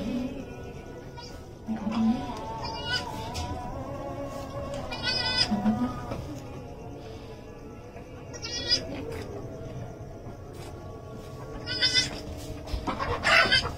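Newborn goat kids bleating in several short, high calls at intervals, close by, while people talk in the background.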